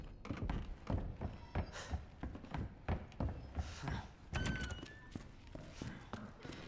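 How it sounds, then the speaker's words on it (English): Heavy thumping footsteps of Mr. X in Resident Evil 2 Remake, a series of close, irregular thuds and knocks with faint background sounds between them. "I hear him thumping."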